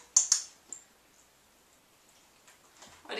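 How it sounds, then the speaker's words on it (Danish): A dog training clicker gives two sharp clicks in quick succession near the start, close and distinct, followed by a fainter click and then quiet, with a few soft rustles toward the end. "jeg klikker og giver ham godbid lige bagefter"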